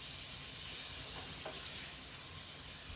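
Onions and basil pesto being stirred and sizzling in a pan, a steady frying hiss with faint scrapes of stirring, close and fairly quiet.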